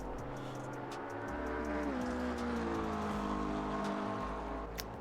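Several GT3 race cars at Spa in a multi-class racing video game, their engines droning steadily with shifting, rising pitch as they run together, fairly quiet and continuous throughout.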